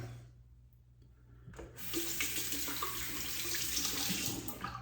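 Tap water running over a razor blade during a rinse at a sink, a quiet drip at first, then a steady hissing stream splashing close by for the rest, with no talk.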